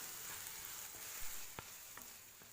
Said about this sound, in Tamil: வெங்காயம் நல்லா வதங்கினதும் தேவையான அளவு உப்பு, மஞ்சள்தூள் சேர்த்து நல்லா வதக்கி விட்டுக்கலாம்.